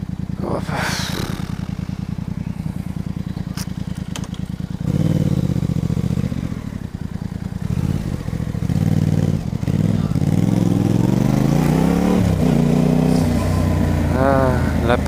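Yamaha Tracer 700 motorcycle riding along, a steady close engine drone with rising and falling pitch as the rider shifts and accelerates, wind buffeting throughout and a voice talking over it in places.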